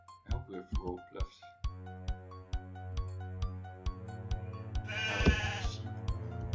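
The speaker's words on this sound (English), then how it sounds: "Sheep." Sheep bleat in the video game Darkshire, several wavering cries early on and a louder bleat near the end, over steady game music with regular ticking beats.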